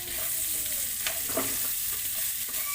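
Chopped ginger and garlic sauté in a hot pan for a fish biryani, a steady close sizzle with a couple of brief stirring scrapes, and no talking.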